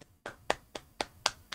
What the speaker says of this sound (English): A round of applause for putting Wizard 101 in VR.